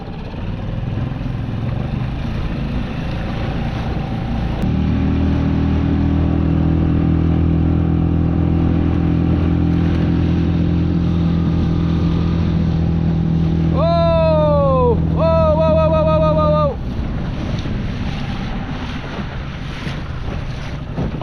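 An oversized outboard motor pushes a small plastic pond boat at half throttle on choppy, windy water, a loud steady engine drone that starts abruptly, runs for about twelve seconds with a brief whining rise near the end, then cuts out amid wind noise.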